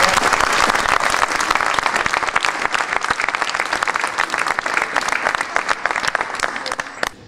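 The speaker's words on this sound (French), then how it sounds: "qu'on l'applaudisse tous pour l'honneur" A large crowd at the Albi town hall applauds Miss France during the Albi carnival, with loud, dense, continuous clapping that holds steady before cutting off at the end.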